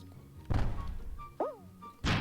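Loud game effects from Stumble Guys burst out in a bomb round: a heavy thump, a falling whistle-like tone, then another blast-like hit at the end, close and punchy with no talk.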